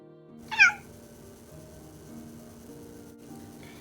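A single short meow comes from a cat in a video game, close and clear, followed by a quiet, steady background tone and no speech.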